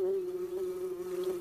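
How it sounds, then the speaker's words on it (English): A steady, droning buzz of bees sounds loud and continuous in a cartoon scene, with no talking over it. "I can't hear you over all that buzzing."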